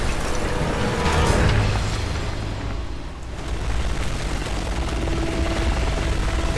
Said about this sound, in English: And now the helicopter leaves.